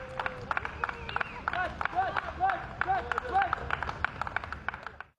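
Applause and cheering break out at a welcoming ceremony for a champion boxer, with scattered claps and excited voices from a crowd in a lively, uneven burst.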